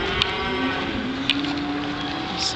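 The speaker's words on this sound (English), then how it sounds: "There's some cattle there." Cattle mooing at a cattle sale in Escalon, a steady chorus of low, drawn-out bellows from several animals with no talk, moderately near.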